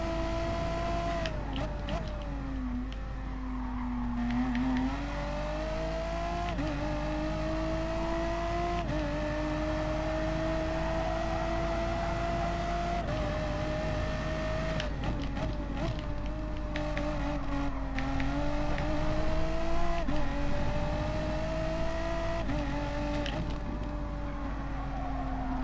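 Race cars lapping a track in Gran Turismo Sport, heard as a continuous, close engine whine that rises and dips in pitch with gear changes and throttle for nearly half a minute, with other cars audible around it.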